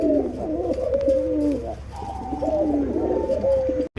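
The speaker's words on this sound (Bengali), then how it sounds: "এখানে রয়েছে দর্শক এক জোড়া থাইল্যান্ডের পিলা ঘুঘু" A caged pair of Thai yellow doves coo near and loud, repeating soft rolling, wavering calls with a short pause midway.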